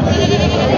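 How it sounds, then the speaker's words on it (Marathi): A gavran goat at the Khandoba goat market in Parbhani lets out a single loud, close, wavering bleat lasting under a second. "तर गावरान शेळी आहे."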